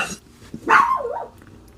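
A dog outdoors in a residential neighborhood gives a single loud, close bark with a slightly drawn-out, rough tail, with no talk over it.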